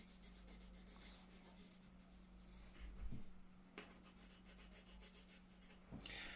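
A blue pencil held flat rubs across paper to draw a wide line, giving a faint, close, rhythmic scratching with a few slightly louder strokes and no talk.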